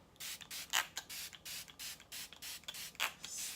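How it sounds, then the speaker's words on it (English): A spray bottle mists primer water onto a makeup beauty blender in a rapid series of faint, soft pumped spritzes, close up and quiet with no talking. "I'm just going to spray some primer water on it."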